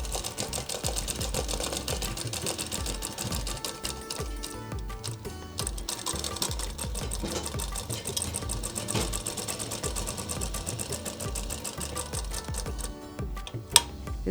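A sewing machine runs steadily in rapid, continuous stitching, sewing a half-inch double seam along the shoulder joint of a Patiala kurti. The whirring is close and even, pauses briefly near the middle, and has no talk over it.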